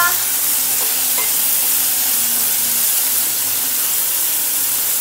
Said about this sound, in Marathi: भेंडी टाकून आता छान हलवून घेऊया